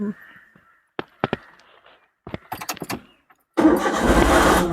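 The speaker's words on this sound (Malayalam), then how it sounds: "സ്റ്റാർട്ടാക്കി അവിടെ താക്കോല് തിരിച്ച പാടനെ എന്ത് വേണം? എൻജിൻ കറങ്ങി തുടങ്ങിയെന്നാണ്ട്" During a road driving lesson, a car's ignition key is turned: a few sharp clicks come first, then the engine cranks and catches into a loud, steady running rumble close by.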